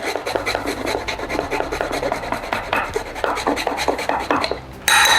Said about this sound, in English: So ginger, about a thumb, half a thumb, I reckon, about that much. I'm just going to grate it into here.